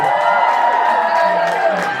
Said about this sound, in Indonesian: Berikan tepuk tangan untuk Nirina Zubir